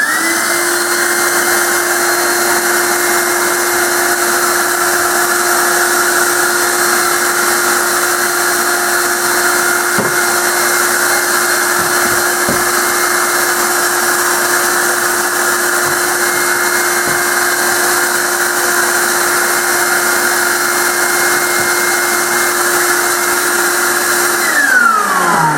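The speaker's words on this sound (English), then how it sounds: "our screen suction tool is this stainless steel tool attached to our shop vac" Shop vac fitted with a stainless steel screen suction tool runs steadily for the whole stretch, a loud continuous whine with a strong motor drone, and near the end it begins spinning down.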